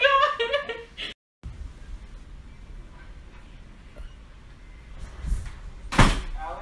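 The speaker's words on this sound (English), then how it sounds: "My cousin's door closed by itself." An indoor door swinging shut on its own gives a single sharp bang near the end, following a stretch of quiet room tone and a brief muffled thud; faint voices can be heard early on.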